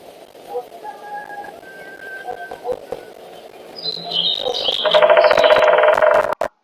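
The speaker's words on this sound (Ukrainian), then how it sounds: "Так, це дятел." Recorded woodpecker calls played for a lesson on forest birds: scattered chirps and sharp clicks build into a loud, rapid, rattling trill near the end before cutting off abruptly.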